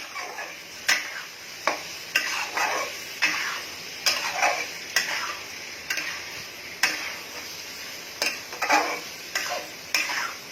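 Pieces of lotte fish being stirred into a sizzling masala for jhuri, with repeated sharp scrapes of a spatula against the pan at an irregular rhythm over a soft continuous frying crackle, close and fairly quiet.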